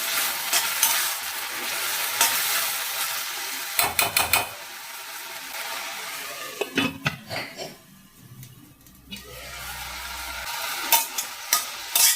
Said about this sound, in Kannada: ಮತ್ತೆ 2ರಿಂದ 3 ನಿಮಿಷ ಈ ಮಸಾಲಾನ ಫ್ರೈ ಮಾಡ್ಕೊಳ್ಳೋಣ.